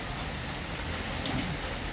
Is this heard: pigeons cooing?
no